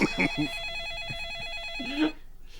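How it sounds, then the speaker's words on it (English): A telephone rings in a dark bedroom, its electronic trill repeating in steady pulses over a muffled background, with brief voice-like bursts at the start and near the end. "there's a phone currently ringing in the Numa Numa guy's bedroom"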